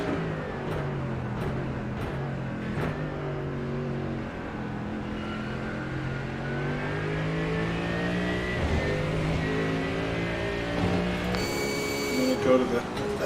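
Big Mercedes V8 race car engine at the 24 Hours of Daytona, a deep steady rumble with shifting harmonic tones held over several seconds, heard from inside the car with people talking over it.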